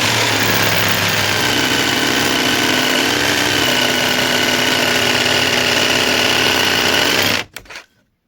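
A LEADER Lite BD20-65M cordless jigsaw runs loud and close with a steady, labouring buzz as it strains through a deep cut, then abruptly stops with a few sputtering bursts at the end.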